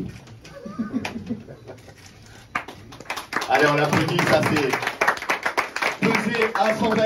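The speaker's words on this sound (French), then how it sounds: "Allez, on l'applaudit" A crowd at a Kingdom Fighting event bursts into applause for the Brazilian heavyweight Antonio "Bigfoot" Silva. Dense, sustained clapping swells after a few seconds and stays loud under an announcer's voice.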